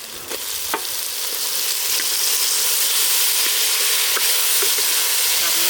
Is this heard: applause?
no